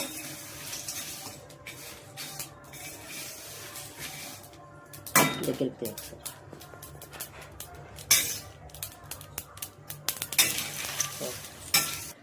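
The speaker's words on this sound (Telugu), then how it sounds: "కొంచెం లైట్గా వేడయ్యేదాకా ఫ్రై చేసుకుందాం" Whole garam masala spices being dry-roasted in a pan give faint scraping and stirring rattles, then louder bursts of clinking utensil and pan knocks in the second half, with no talking.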